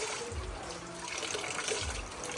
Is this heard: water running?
yes